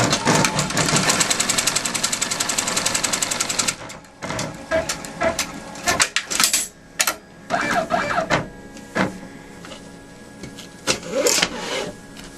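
A sewing machine runs a seam on a crazy quilt block, a loud, rapid rhythmic chatter lasting nearly four seconds, then stops and gives way to scattered fabric handling and clicks.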